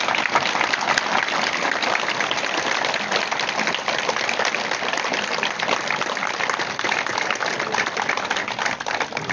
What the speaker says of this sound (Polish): dla Agnieszki wielkie brawa od naszej społeczności.